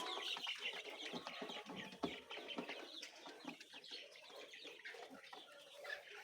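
Layer hens being raised for egg production cluck and murmur in a busy, continuous chorus. The sound is fairly faint and has no talking over it.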